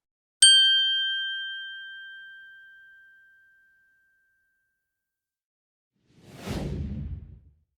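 A single bright bell-like ding rings out clearly and decays slowly over about three seconds, followed by a soft swelling whoosh that rises and fades near the end, with no voices.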